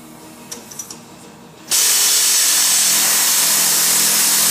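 A pneumatic air tool spins out a part on a VW Rabbit during an engine swap, bursting into a loud, steady, close hiss after a few faint clicks.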